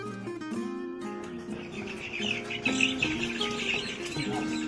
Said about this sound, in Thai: มีลูกไก่นะครับ